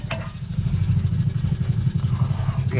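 Electric fuel pump on a Morris Minor drawing stale fuel from the tank, a steady close buzzing clatter with a quickening rhythm as it begins pumping air.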